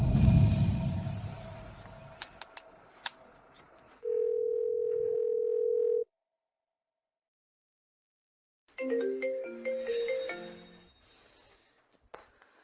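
Telephone call being placed again: a close steady dial tone holds for about two seconds after some handling clicks, then silence, followed by a burst of stepped electronic dialing tones.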